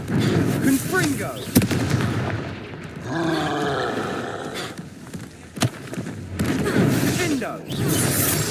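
Confringo blasting spells explode during combat in Hogwarts Legacy, with two sharp booming cracks standing out over continuous loud roaring game noise and growling creature sounds.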